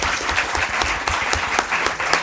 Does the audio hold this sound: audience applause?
yes